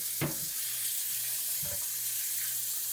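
Tap water running steadily into a sink while beef bones, brisket and tendon are rinsed for homemade pho, a constant close hiss with a couple of brief knocks from the contents.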